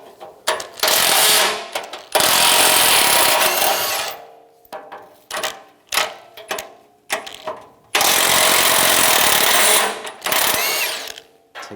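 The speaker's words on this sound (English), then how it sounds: "Using a 15mm socket, take this bracket off." A power tool with a 15mm socket removes bumper bracket bolts on a 1999-2006 Chevrolet Silverado 1500: repeated loud buzzing bursts of varying length, separated by short silences and ratcheting clicks.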